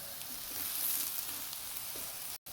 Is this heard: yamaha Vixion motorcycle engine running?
no